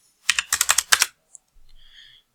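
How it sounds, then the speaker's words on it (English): Computer keyboard typing, a quick burst of about seven close, crisp keystrokes followed by a single tap and a faint softer sound. "I'm going to type in 200 and 200"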